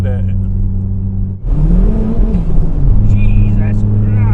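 A 432 bhp Saab-powered Vauxhall Astra van accelerating hard in fifth gear on a wet road, its loud engine drone dipping briefly, then climbing steadily in pitch under excited voices in the cabin.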